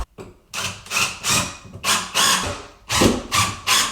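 A power driver whirs in repeated short bursts, about seven pulses with brief pauses between, driving a screw into a kitchen cabinet close by.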